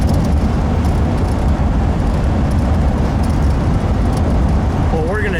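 A 1953 Buick Skylark convertible on the road, heard from inside as a steady, loud rumble of engine and road noise with broadband wind wash, holding constant with no voices.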